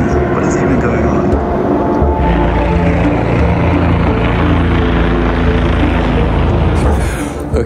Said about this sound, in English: We got a helicopter hovering.